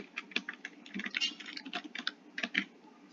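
Someone types code on a computer keyboard with quick, irregular clicking keystrokes, close and moderately loud, with no other sound.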